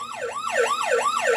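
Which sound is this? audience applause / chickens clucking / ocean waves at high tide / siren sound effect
siren sound effect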